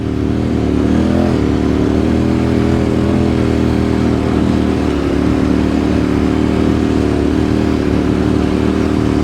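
A motorcycle fitted with Motoz Tractionator adventure tyres rides through very soft beach sand, its engine a loud, close, steady drone held at an even pace throughout, with no talk.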